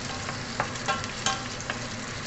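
Red garlic frying in hot oil in a pan, a steady dense sizzle with small crackling pops throughout, close and continuous.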